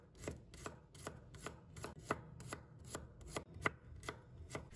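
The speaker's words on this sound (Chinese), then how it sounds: "再准备一把大蒜，把它切成片。" A kitchen knife slices garlic cloves on a cutting board in quick, evenly spaced, close-up chops, about three per second, crisp and distinct against a quiet room with no talking.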